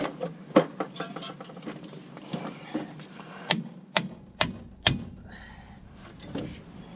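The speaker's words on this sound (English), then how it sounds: "A bigger hammer." Heavy metal hammer blows ring out on a truck part, a few strong hits from a bigger hammer spaced about a second apart, with lighter tapping and clatter before them.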